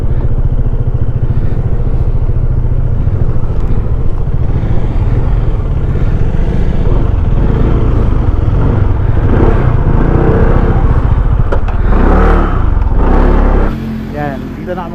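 A Honda ADV 160 scooter motorcycle rides on a road trip loop, its engine drone steady and close under heavy wind rush, easing off near the end.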